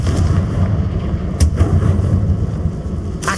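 A Confringo blasting spell in Hogwarts Legacy lands as a few sharp bursts with a rumbling low-end body, one near the middle and another at the end, over a steady background din.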